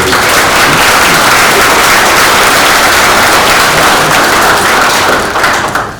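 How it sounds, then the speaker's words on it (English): Audience applause for newly elected county officials at a government swearing-in ceremony, a dense, steady wash of many hands clapping close and loud throughout, easing slightly at the very end. "So a little round of applause for all of"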